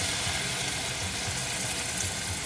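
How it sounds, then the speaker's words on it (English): Water pours steadily into a pan of chili paste for a yellow noodle stir-fry, giving a continuous close hissing, splashing wash with no voices. "I'm going to be adding a little bit of water just to mix everything up"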